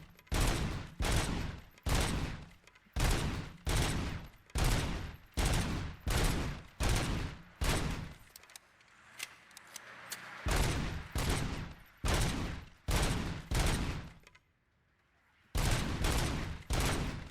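Pistol fire in the video game RoboCop: Rogue City, loud, sharp bursts of closely spaced shots repeating steadily, with a couple of brief pauses.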